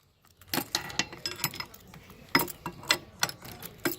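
Metallic clicks and clacks from a Jeep JKU security lock being latched, several sharp close-up knocks in an uneven rhythm over quiet background.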